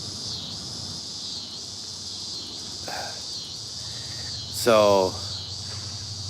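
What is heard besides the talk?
crickets and cicadas chirping in the evening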